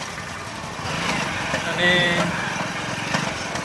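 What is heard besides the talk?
motorcycle engine idling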